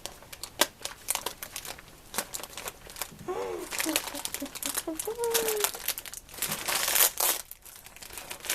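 Parcel packaging crinkles and tears in bursts as a box is unpacked, close and fairly loud, with a child-like voice and laughter talking over it throughout.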